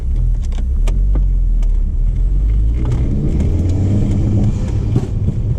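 A Toyota Supra MK4 stuck in two-step, driving with a steady, loud engine drone and road rumble, the engine note rising toward the end.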